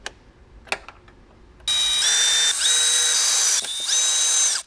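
A 7mm wrench removes Phillips head screws inside a 2018–2023 JL Wrangler. After a couple of sharp clicks, a loud, steady motorized whine runs for about three seconds and dips briefly midway.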